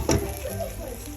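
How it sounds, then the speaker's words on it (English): Tomatoes frying with onions in a pot for vegetable soup give a steady close sizzle, with a brief louder burst near the start. "Then let your tomatoes fry"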